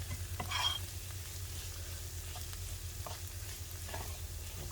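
Flour cooking in a pan for mac and cheese, a soft steady sizzle with the faint scrape of stirring and a few light clicks, with no voices.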